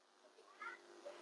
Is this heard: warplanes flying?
no